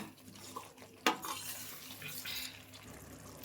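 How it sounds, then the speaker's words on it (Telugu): Water poured into a pot of tamarind stew with egg and drumstick, a soft continuous splashing pour with a brief sharper clatter near the start, fairly close. "మనం సరిపడ పులుసుకు సరిపడ వాటర్ యాడ్ చేసుకుందాం"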